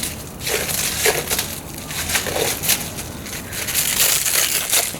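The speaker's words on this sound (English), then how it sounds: "Let me unwrap one of these boys." Billet aluminum car parts for a donk build being pulled from their packaging, with loud, continuous crinkling and crushing of wrapping material over about five seconds, close and busy throughout.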